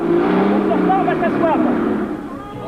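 A rally car racing flat out in the 1985 Paris-Dakar, a loud, close engine drone with wavering pitch, blended with commentary-like voices and music throughout.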